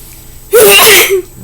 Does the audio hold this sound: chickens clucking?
no